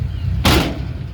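Hood of a 1946 Mercury Woodie wagon popping open from its inside release, a single sharp, close thump-clunk standing out in an otherwise quiet moment.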